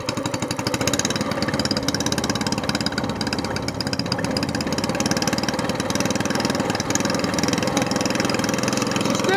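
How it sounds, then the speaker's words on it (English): A longtail mud motor runs just after an oil change, still cold, its engine chugging at a steady, loud, rapid idle throughout with no break. "All right, let's give it a run. Want to hear it?"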